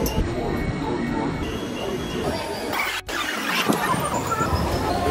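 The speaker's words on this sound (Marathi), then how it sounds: "ही ट्रेन आली आता पकडायची ट्रेन" Mumbai local train arriving at a crowded station during the morning rush: a loud continuous rumble and rail noise with squealing, a brief sharp dropout midway, and faint crowd chatter mixed in.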